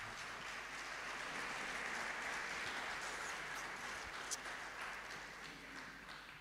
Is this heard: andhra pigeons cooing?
no